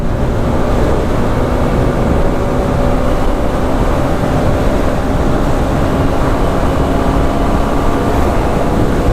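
A Suzuki Address V125G scooter ridden on the road at top speed, with a loud, unbroken roar of engine and rushing wind that stays at the same level throughout and has no voices.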